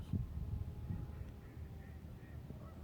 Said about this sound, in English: Hey, I hear geese.